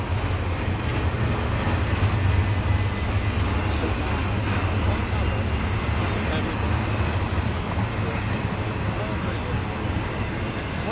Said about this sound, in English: Two locomotives, yeah.